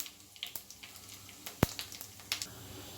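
Teaspoon of cumin seeds and two bay leaves dropped into heated oil in a pan for pumpkin, pea and potato curry, giving a faint scattered crackle and sizzle with one sharp pop partway through.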